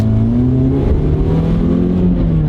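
A high-mileage car's engine revs up and accelerates, close and loud, its droning tone climbing steadily in pitch for a couple of seconds with no talking.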